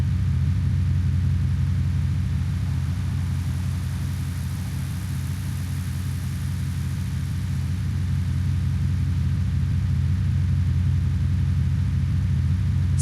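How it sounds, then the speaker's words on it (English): A BMW M3 GTR engine in BeamNG.drive drones with a steady, loud low rumble at a constant pitch, like a continuous idle or cruise, unbroken and without voices. "BMW M3 GTR"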